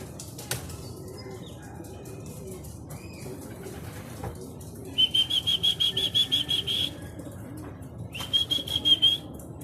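Racing pigeons arrive at a loft after a training toss from Bamban, Tarlac, giving two bursts of rapid, rhythmic wing flapping, each lasting a second or two, close and distinct over a faint background hum.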